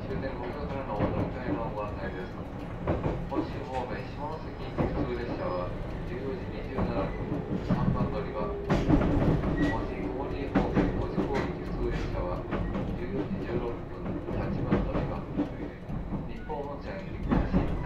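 Interior of a JR Kyushu 813 series electric train with Toshiba GTO inverter running between Akama and Kokura, a steady continuous rumble with motor whine and rail clatter throughout, while onboard announcements and voices speak over it.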